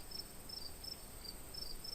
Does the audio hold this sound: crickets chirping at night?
yes